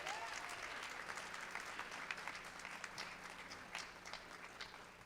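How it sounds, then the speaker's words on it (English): Audience applause fills a community college storytelling faculty concert, a steady, dense clapping from many hands that carries on for several seconds at a moderate distance. "Give her a big round of applause."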